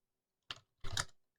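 Two short bursts of typing on a computer keyboard while coding a Discord bot, a brief cluster of keystrokes followed by a longer, louder run, close and alone.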